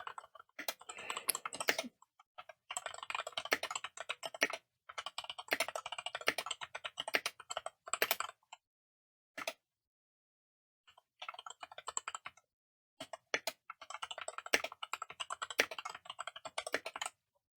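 Close, crisp typing on a computer keyboard in bursts of rapid key clicks, separated by short silent pauses and a lone tap, with no talking.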